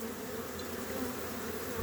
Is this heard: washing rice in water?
no